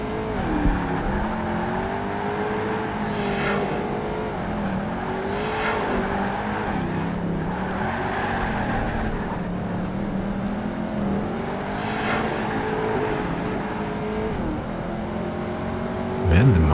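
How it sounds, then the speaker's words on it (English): A Ford Mustang muscle car engine roars in the Project Gotham Racing 2 video game, revving up and down through repeated gear changes in a steady, loud drone. "Man, the Mustang is really pretty quick."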